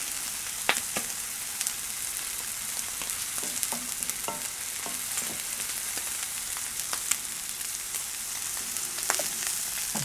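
T-bone steaks fry on a Camp Chef FTG600 griddle with a steady, even sizzle and scattered small pops and crackles, close by and alone with no talk.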